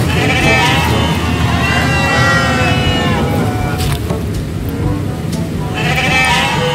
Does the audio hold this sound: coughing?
no